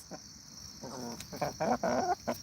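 Several chickens cluck nearby in short, uneven bursts, growing busier toward the end.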